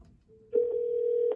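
A white Cisco 8845 IP phone ringing after being dialed, heard as a single steady electronic ring tone starting after a brief pause and sustained to the end, clear and moderately loud.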